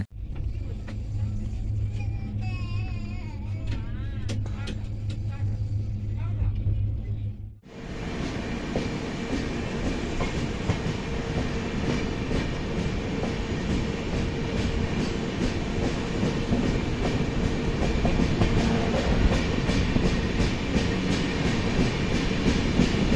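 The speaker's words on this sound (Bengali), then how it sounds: "আমাদের ট্রেন এই জাস্ট ধুবলি বলে কোনো একটা স্টেশন স্কিপ করলো" Howrah–Pune Azad Hind Express running with steady rumble and rail clatter heard from inside an AC 3 tier coach, loud and continuous, after a brief quieter stretch with a low hum at the start.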